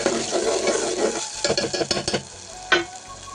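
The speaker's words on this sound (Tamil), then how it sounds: "அதை இதுக்குள்ளே போட்டுக்கலாம். போட்டு நல்லா கிண்டி விட்டுக்கலாம்." Tomato paste being stirred into sautéed onions in a pan for tomato rice: a soft sizzle with a run of close scraping, clattering stirring strokes, then a brief sharper scrape near the end.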